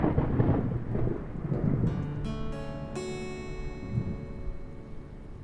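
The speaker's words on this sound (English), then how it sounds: "It's a rainy day" Steady rain on a rainy day, a soft hiss with low rumbling that fades after a few seconds as sustained ringing tones take over.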